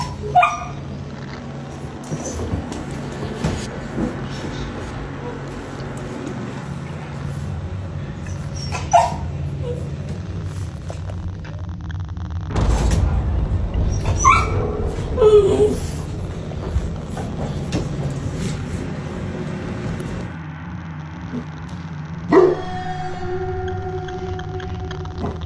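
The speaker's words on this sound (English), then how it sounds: "the family dogs begin to act really strange" Family dogs bark, yip and whimper in a home, with sharp barks scattered through a stretch of whining and background noise, while people talk at times.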